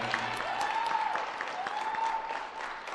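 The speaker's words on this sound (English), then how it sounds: "let's give a round of applause for our seniors already" Crowd at a girls' varsity basketball game applauding the senior players, a steady wash of clapping heard from a distance in a reverberant gym, with a faint tone underneath.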